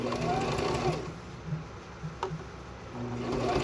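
A sewing machine stitches a fabric sleep mask at stitch length 8, running forward and then reversing to lock the seam. The steady mechanical whir runs close and clear, pauses briefly mid-clip, then resumes.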